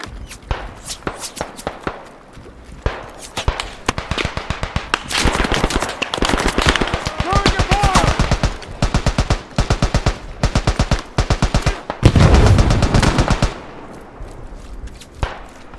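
A BAR 1918 automatic rifle fires in the World War One shooter Beyond the Wire, loud rapid bursts with short pauses between them and scattered distant battlefield gunfire behind.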